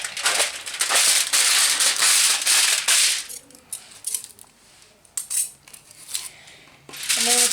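Scissors snip through fabric for a homemade headband, a few crisp close cuts with sharp rustling at first, then quieter handling and a final snip.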